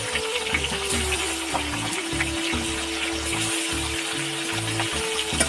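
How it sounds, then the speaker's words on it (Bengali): A dense, steady crackling hiss of fish frying crisp in oil runs throughout, over a low mechanical hum. "মাছগুলোকে একটু কড়া করে ভাজতে হবে"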